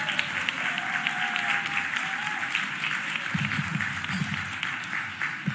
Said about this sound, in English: Give Sue Slauson a huge round of applause.